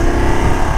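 A BMW F 850 GS motorcycle with an 850 cc engine accelerating on a road, a loud, steady engine drone close up with wind rush, no talking.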